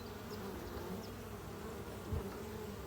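Honey bees humming steadily at a hive during the spring nectar flow, a dense continuous buzz close by with a brief louder swell near the end.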